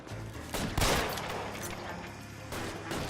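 Gunfire in the video game L.A. Noire crackles in a rapid close-range exchange, several sharp shots and bursts layered over a short fight.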